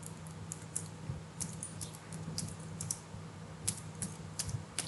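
Quiet, rapid typing on a computer keyboard, irregular soft clicks spread across the whole stretch over a faint steady hum.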